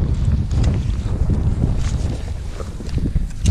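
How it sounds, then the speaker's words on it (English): Strong wind buffeting the microphone outdoors while metal detecting in the UK, rumbling gusts throughout with no speech. "So windy here."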